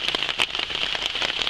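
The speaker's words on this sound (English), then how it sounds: "It's been raining for 2 hours now." Steady rain falls at an overnight campsite, close by and moderately loud, with a dense patter of drops striking a surface and occasional sharper splats.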